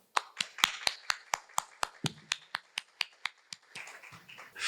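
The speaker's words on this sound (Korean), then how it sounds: "오늘 발표를 맡게 된 김종현 본부장님을 박수로 맞이해 주시기 바랍니다." Sparse applause welcomes a speaker at a business forum: around fifteen sharp, close handclaps in a quick, even rhythm, thinning out toward the end.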